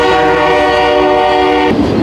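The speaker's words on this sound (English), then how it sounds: "There's the train coming" A train passes through a Beaverton, Oregon neighborhood, its loud sustained horn blaring for nearly two seconds before cutting off into rumbling wheel noise.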